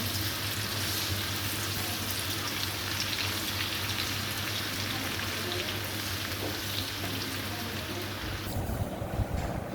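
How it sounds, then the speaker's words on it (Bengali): Sliced onions frying in hot oil to make crispy beresta give a loud, continuous sizzle and crackle that holds steady for several seconds, then drops sharply quieter near the end. "পেঁয়াজ বেরেস্তা করে নিচ্ছি"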